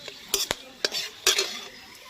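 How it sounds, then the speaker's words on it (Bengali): Bay leaf and whole garam masala stirred in hot oil in a home village kitchen: a few sharp spoon-scraping clacks over a soft sizzle, close and alone. "তেলের মধ্যে দিয়ে দিচ্ছি তেজপাতা আর গোটা গরম মশলা। একটু নেড়ে চেড়ে ভেজে নিয়ে"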